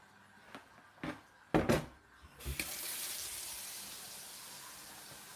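Water pours steadily into a home aquarium during a manual water change, a continuous rushing splash after a few knocks and clunks of handling at the start, close and fairly loud with no talking.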